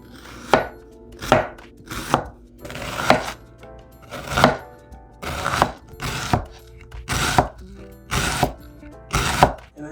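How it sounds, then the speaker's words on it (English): A knife slicing a red onion thinly on a cutting board, about a dozen crisp, evenly spaced chops with soft scraping between them, close and clear without talk. "you're going to want to cut this as thin as possible"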